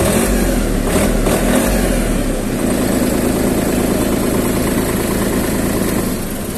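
A used Japanese Honda 20TX tractor engine runs steadily nearby, a loud, continuous idling rumble with an even mechanical throb and no voices over it.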